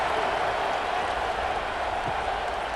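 Stadium crowd in a college football video game, a steady wash of distant cheering and murmur under a faint spoken commentary voice.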